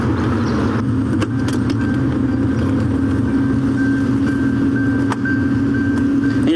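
A patrol car's engine idles at a roadside traffic stop, a steady low rumble with a faint constant whine running throughout, close and continuous.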